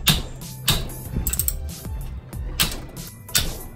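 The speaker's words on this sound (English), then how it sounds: "Turn this way and this axle stub goes the other way." Open differential gears on a V8-swapped Nissan C33 Laurel clicking and grinding as an axle stub is turned by hand, a close series of irregular metallic ratchet-like clicks and clunks, fairly quiet.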